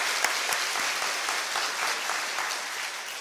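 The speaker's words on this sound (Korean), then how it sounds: "하나님께 영광 박수 올립니다." Sustained applause from a church congregation at a Sunday service, many hands clapping evenly and fairly loud throughout, with no speech over it.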